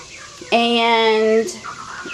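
A backyard farm flock of barred rocks, Easter eggers and white leghorns: one hen lets out a single drawn-out, nasal squawk close by, over quiet background noise.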